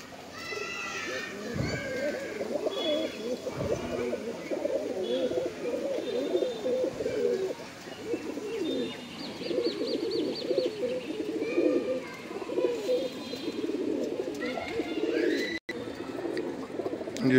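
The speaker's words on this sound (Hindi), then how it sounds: "ये कबूतर है जी, ठीक है जी, बिल्कुल साफ सुथरे सुपर क्वालिटी के कबूतर हैं सभी" Punjabi Malwai pigeons coo steadily in a rooftop loft in Chhatarpur village, Delhi, with low throaty murmurs running throughout under someone talking, plus faint chirps and distant background chatter.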